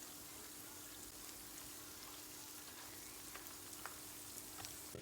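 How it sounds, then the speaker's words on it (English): Potato vada balls coated in batter deep-frying in oil over a medium flame for vada pav, giving a steady, soft hiss with scattered faint crackles and pops throughout, no talking. "Fry it on medium flame."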